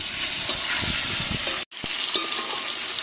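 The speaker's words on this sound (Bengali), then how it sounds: "আলুটা বাদামি কালারের করে ভেজে নিয়েছি আমরা" Potatoes fry in a pan over a wood-fired stove with a loud, continuous sizzle and a few sharp clinks of stirring, broken by a brief cut.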